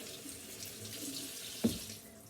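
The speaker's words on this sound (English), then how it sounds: "Just run it under some water" Kitchen tap water runs steadily over a lobster body being rinsed during cleaning, a soft, constant splashing flow with one brief louder splash near the end, no voices.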